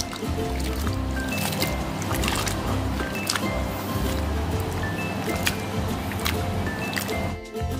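Wet squelching and sloshing come from bitter gourd being squeezed and kneaded by hand in salt water for a shrimp sambal, with continuous close, soft, irregular squishes and trickles and a few faint high clinks.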